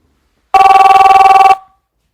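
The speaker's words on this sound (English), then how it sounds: "So let me make a call." A single telephone ring sounds when a call is placed, one loud, trilling electronic burst of about a second following a moment of silence, then fading out.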